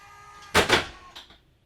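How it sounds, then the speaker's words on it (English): The bed release mechanism on a Momentum fifth wheel RV lets go with a pair of quick, hard mechanical clunks close by, followed a moment later by a softer knock and a brief rattle. "That just detached the bed so you can bring it down."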